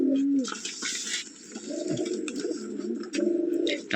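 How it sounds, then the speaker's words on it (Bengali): Light Biscuit pigeons coo in low, throaty repeated phrases close by, with brief rustling and wing flutters between the calls. "সেরা কিছু কবুতর আছে আপনার, এই যে লাইট বিস্কিট এগুলা"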